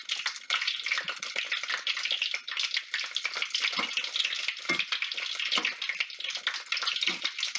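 Corn and green onion fritters frying in oil in a pot give off a loud, steady, dense sizzle and crackle, close up and continuous throughout, with no voices.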